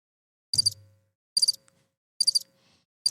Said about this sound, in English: and they hit the crickets.